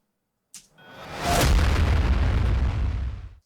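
A hit sample run through the Lunacy Audio Volt distortion plugin's Beam effect: a sharp attack, then a swelling, roaring distorted boom that holds loud and full for about two seconds before cutting off.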